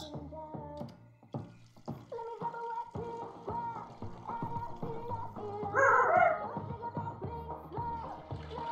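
A dog gives a run of yips, whimpers and short barks close by, over a steady low background, with no clear talking.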